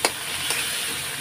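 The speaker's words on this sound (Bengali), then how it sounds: "এখন আমি কষিয়ে নেব" Spice paste for fish curry sautés in a pan with a soft, steady sizzle and a couple of brief stirring scrapes, heard only briefly.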